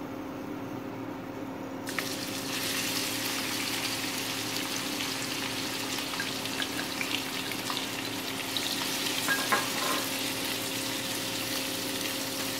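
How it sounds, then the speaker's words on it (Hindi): Onions frying in oil in a kadhai for karela chutney, a dense continuous sizzle and hiss over a faint steady hum, with a sharper burst of crackle early on. "अब इसमें हम कढ़ाई में प्याज डाल देंगे। थोड़ा बाकी का जो तेल था हमारा वो भी इसमें हम डाल देंगे।"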